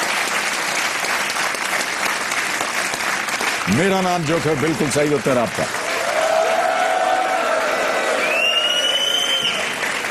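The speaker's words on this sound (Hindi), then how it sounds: "तालियां बजती रहें प्रेमियों और सज्जनों।" Studio audience on a television quiz show applauding a contestant's correct answer and prize; loud, continuous clapping throughout, with someone speaking over it midway and a brief electronic tone near the end.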